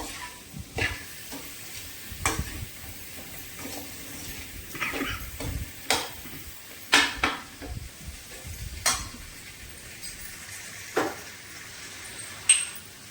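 Bottle gourd curry stirred in a pan, with sharp intermittent scrapes and knocks of a spoon against the metal over a faint sizzle, close and irregularly spaced, no voices.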